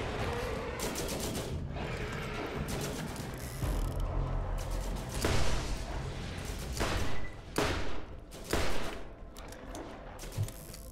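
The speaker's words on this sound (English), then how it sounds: "Keep firing at them, turret." Turret gunfire in the video game Borderlands, rapid bursts of shots rattling over a steady loud battle din, with several heavier thumping volleys standing out in the second half.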